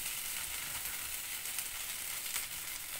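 Food frying on a low simmer in a pan, a steady, fairly faint hiss of oil with fine crackling throughout, no voices.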